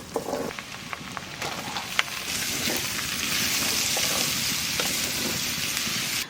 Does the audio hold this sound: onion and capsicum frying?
yes